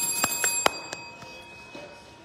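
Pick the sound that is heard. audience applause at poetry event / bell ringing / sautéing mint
bell ringing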